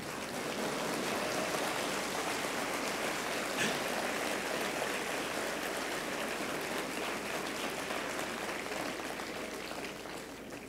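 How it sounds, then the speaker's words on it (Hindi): Steady, dense applause from an audience at a national conference, a continuous wash of clapping that holds level for about ten seconds before easing slightly. "मैडम, आप भी ताली बजाइए।"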